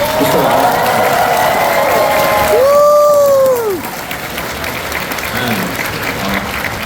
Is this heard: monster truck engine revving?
no